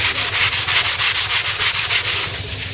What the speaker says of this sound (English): I'm just getting in with the sponge block now, flexible sanding block, getting these awkward corners